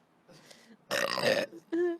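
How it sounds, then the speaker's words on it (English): A loud, rasping human burp lasts about half a second. It comes after a soft murmur and is followed by a short voiced sound. "I don't like the burps"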